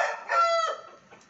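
A Poland crested ornamental chicken from the Netherlands gives a short, loud, close crow or cluck of about a second, then falls off quickly.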